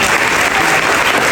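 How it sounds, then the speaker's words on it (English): A crowd claps loudly and steadily, dense applause filling the whole moment with no voices on top. "please give them a round of applause."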